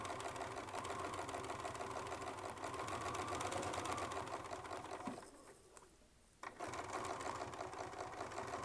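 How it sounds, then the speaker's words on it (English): A sewing machine runs steadily while quilting with a Westalee Spin E Fex 7-inch template, a continuous close mechanical whir that drops out briefly for about a second before resuming. "So we'll just sew down here in this margin"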